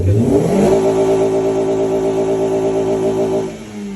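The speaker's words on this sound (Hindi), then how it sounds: "और यहाँ देखें एयर फ्लो लगा हुआ है और ये अब रेस दे रहा हूँ मैं।" A Toyota pickup engine is revved hard from idle up to its 6000 RPM cutoff, rising in pitch and holding a loud, steady high note before dropping off near the end. The sound is close, with no talk.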